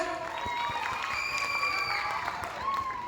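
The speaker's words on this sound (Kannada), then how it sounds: "ಇನ್ನೊಂದ್ಸಾರಿ ಇಷ್ಟೇನ ಚಪ್ಪಾಳೆ" Audience applause at a stage event before a film song performance, a steady wash of many hands clapping with some cheering, moderately loud and continuous throughout.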